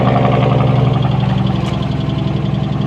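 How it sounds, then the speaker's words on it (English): A Dodge Durango Hemi V8 with its exhaust cut off runs with a steady, loud, rapid ticking over a dense engine drone, close up and with no talking. "It's got the Hemi tick."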